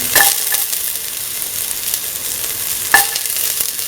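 Garlic and ginger sizzle in a hot pan for a vegetarian lentil and winter melon coconut rice, a steady close frying hiss with a couple of brief stirring scrapes near the start and around the three-second mark.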